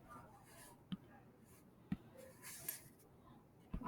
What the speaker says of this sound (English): I'm going to write